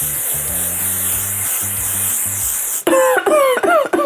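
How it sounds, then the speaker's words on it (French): A L'Oréal Paris makeup setting spray gives a steady close hiss for about three seconds, followed by a few short breathy bursts. "c'est parti pour le petit spray L'Oréal Paris."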